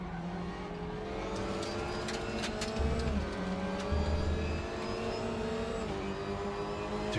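A race car in the sim racing game RaceRoom drives at speed, its engine note rising and dropping through gear changes, with occasional sharp clicks over a steady roar and no talk.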